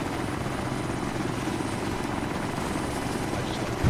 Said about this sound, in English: I was aiming for that helicopter